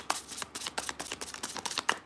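Deck of reading cards being shuffled by hand, a quick run of crisp, papery riffling flicks with slight pauses, close and fairly loud, with no talking.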